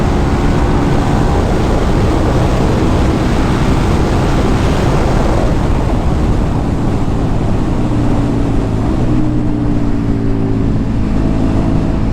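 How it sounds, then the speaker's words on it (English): KTM 1290 Super Duke R motorcycle pulling hard in fifth gear, a loud continuous engine roar with rising pitch over heavy wind buffeting, sustained throughout without pause. "Take a 5th gear pull."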